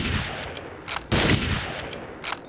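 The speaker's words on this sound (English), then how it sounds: "2 quick sniper rifle shots to the face, though, and they will be dealt with summarily" Sniper rifle shots in the Turok 3: Shadow of Oblivion video game, a few sharp, loud cracks standing clear of a quieter background of game sounds.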